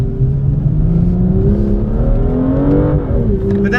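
A BMW M2 engine revs hard and accelerates, its rising tone climbing steadily and loudly close by, with a brief shift near the end.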